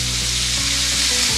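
Shrimp frying in a pan with salt, pepper, Worcestershire and soy sauce, a steady loud sizzle with faint crackles throughout, no talking.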